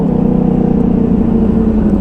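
Yamaha R1 crossplane motorcycle engine running close and loud, a steady deep rumbling drone with an even throb and no breaks throughout.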